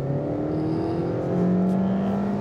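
A new Suzuki Swift Sport's 1.4-litre engine revs up hard under full-throttle acceleration in a manual car, its pitch rising steadily, heard from inside the vehicle with a steady road rumble beneath.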